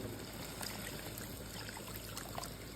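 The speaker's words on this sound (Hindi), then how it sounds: "अब इसके अंदर हम ऐड कर देंगे पानी" Water goes into a pan of fried spices during cooking of a gram-flour and bottle-gourd curry, a continuous soft trickling pour with faint bubbling, heard quietly and alone.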